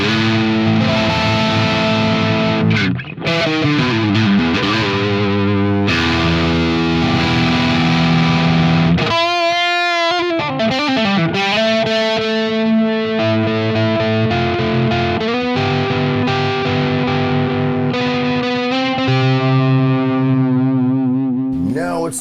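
Shroedder Marksman '87 electric guitar on a low-gain amp setting with both pickups combined: strummed chords and picked riffs, lightly overdriven with a chorus-like shimmer, loud and continuous with no talking.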